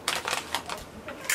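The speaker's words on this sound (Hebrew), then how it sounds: "שומעים אפילו את הקרנצ'יות השונה." Crunching while eating unusual Japanese potato chips, heard as a quick run of crisp, close bites in bursts over about a second and a half, with no talk.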